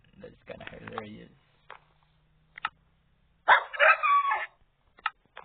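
Dog barking in the Minecraft video game, a few short yips and barks separated by pauses, with a longer louder burst near the end, under a player's voice talking at the start.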